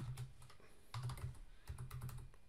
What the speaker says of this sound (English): What you can then do is just type in the text in here.